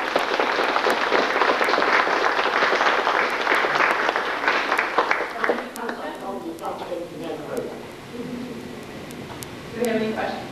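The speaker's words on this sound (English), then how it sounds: "Let's give her a round of applause." An audience at a Calvert County evening talk bursts into loud, dense applause that thins out and fades after several seconds, leaving scattered claps and murmuring voices, with a brief swell near the end.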